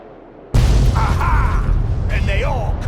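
An artillery gun in Fallout 3 lets off a sudden deep explosive boom, followed by a rumbling, debris-filled aftermath. A voice talks over it.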